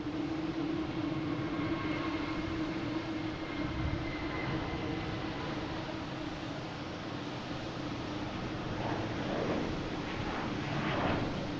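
A Delta airliner bound for Houston at Boston Logan International Airport, heard as a continuous broad jet roar with a low steady drone that swells slightly toward the end.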